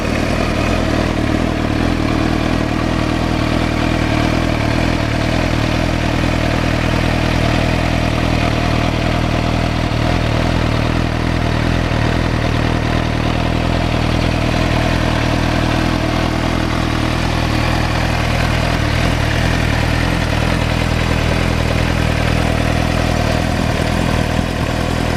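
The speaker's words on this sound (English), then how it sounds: "Okay, we'll just give you an indication of what the exhaust sounds like. Actually really nice and sort of fairly subtle at sitting here at idle." An idling vehicle's exhaust: a steady, loud low rumble with a fine mechanical clatter, continuous and unchanging for about twenty-five seconds with no voices.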